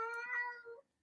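A single drawn-out cat meow, close and clear, about a second long and fading at the end, with no talk over it.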